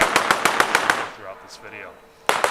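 Rapid burst of about six sharp shots from an airsoft gun mounted on a golf cart at a MilSim game, evenly spaced, then a pause with faint background sound before firing resumes at the end.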